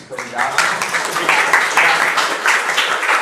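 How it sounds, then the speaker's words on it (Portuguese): An audience applauds a guest speaker at the close of a university seminar on policy-based and intent-based management: steady, dense clapping that lasts about three seconds while someone speaks over it. "Os palestrantes todos ganham sempre uma salva de palmas."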